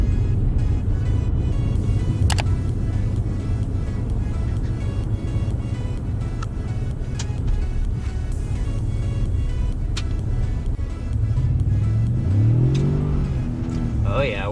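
Vehicle wheels spinning as it climbs a snowy mountain road, a steady engine drone and rumble that revs up with rising, wavering pitch near the end, with a voice briefly speaking.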